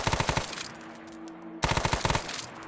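Rapid automatic gunfire in the Arma 3 Prairie Fire game: a fast burst of sharp shots, a pause, then another burst, loud and close with no talking.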